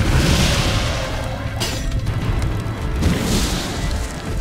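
Fire attack in the video game ELEX: a heavy, roaring burst of flame and booming explosion noise that swells, dips and surges again, loud and close.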